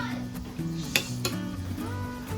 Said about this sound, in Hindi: अब हम इसे अच्छे से मिक्स करेंगे।